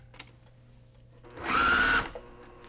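A sewing machine stitches through the fabric of a faux pleated pillow made from jelly roll strips. One loud, steady run lasts about half a second after a quiet start, then it stops.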